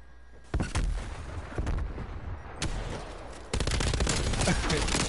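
Gunfire from a gun in a video game fires in loud, close bursts, with sharp single shots early on and then dense rapid fire building to a heavy sustained volley.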